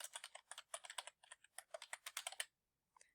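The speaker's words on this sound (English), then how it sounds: "we need to type in our email and our password in order to log in" Typing an email address and password on a computer keyboard to log in, heard as a quick run of crisp, close clicking keystrokes that stops abruptly, followed by one or two isolated clicks.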